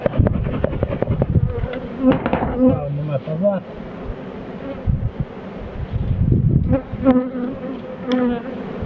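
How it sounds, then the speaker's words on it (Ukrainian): Honey bees buzz steadily around an opened hive during colony expansion, a close, droning hum with a few louder passes near the microphone, while a beekeeper speaks briefly over it. "загонимо цю бджолу"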